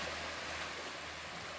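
Sea waves wash against the shore in a soft, steady hiss of surf, faint and unbroken through the brief moment, with no voices.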